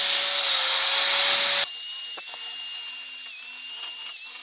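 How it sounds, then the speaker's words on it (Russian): A high-pitched whining rotary grinder cuts out cracks around the spark plug holes of a cylinder head, loud and close, then drops to a thinner steady whine as the tool works the metal. "Сейчас сделаем разделку трещин по свечкам."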